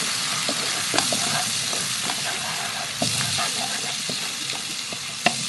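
About 500 grams of chicken frying in oil with onion paste and spices, a dense continuous sizzle with occasional stirring knocks, close and fairly loud, no voices.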